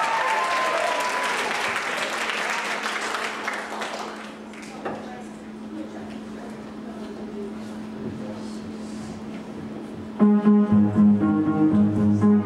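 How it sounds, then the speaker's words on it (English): Audience applause at a school fashion show for year 11 dresses: dense, loud clapping fills the opening seconds, then thins to a murmuring crowd before music starts near the end. "Give a big round of applause."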